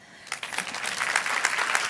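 An audience at an international forum against racism and discrimination breaks into applause, starting quietly and swelling within a moment into sustained, moderately loud clapping from many hands.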